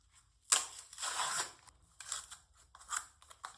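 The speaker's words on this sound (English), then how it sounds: "let's tear this packaging open" Crinkly plastic cosmetic packaging from LA Colors being torn open up close, a sharp rip followed by several rustling, crackling bursts of varying loudness.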